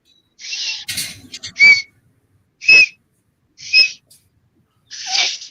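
A person whistles an imitation of a mourning dove's call, several short separate hooting whistles spaced about a second apart, loud and close against silence.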